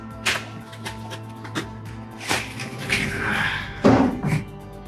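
A boxed gimbal is opened during an unboxing, giving close cardboard thumps, taps and scraping lid movements in scattered bursts, with a louder knock and rustle near the end.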